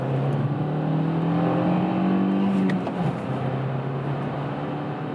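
A Kia XCeed crossover's engine rises in pitch under acceleration from about 50 in second gear, then drops at the shift into third and carries on with a steady hum over road noise.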